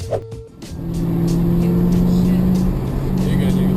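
A Lamborghini engine roars steadily close by, a loud sustained drone with revving, preceded by a brief burst of noise at the start.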